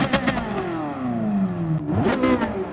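A Ferrari F40 in Gran Turismo Sport roars as it revs, pitch sweeping down then climbing sharply again, loud and close with a raspy, harmonic-rich engine note and no talk.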